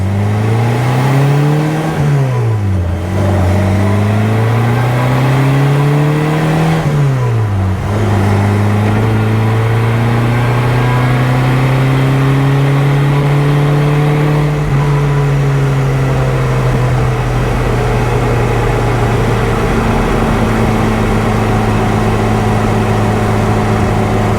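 A supercharged 1275 Super Bugeye engine pulls loudly up through the gears while driving, revs rising and dropping with each shift and then settling into a steady cruising drone, heard from inside the car.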